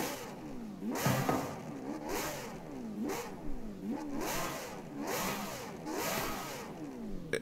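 Mercedes-AMG car engine in the racing game Forza Horizon 5, revving repeatedly in rising and falling sweeps about once a second, steady and moderately loud with no talking over it.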